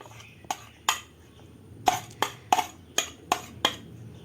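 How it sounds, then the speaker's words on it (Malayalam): A spoon knocks and clinks against a child's food container in a series of about eight sharp, close taps, with quiet background noise between them. "അതിലേക്ക് ഞാൻ ഒരു സ്പൂണ് കൂടെ വയ്ക്കുന്നുണ്ട് അവന് കഴിക്കാൻ വേണ്ടിയിട്ട്"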